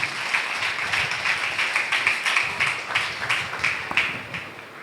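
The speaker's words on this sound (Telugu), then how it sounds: "గట్టిగా చప్పట్లు కొట్టండి" A church congregation at a Sunday worship service claps hands together in a loud, steady rhythmic beat, the dense applause filling the room without pause.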